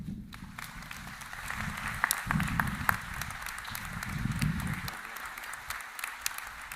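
A commencement audience at Juniata College applauds its honorees, a dense round of clapping that swells and eases over several seconds, with a few sharper claps standing out.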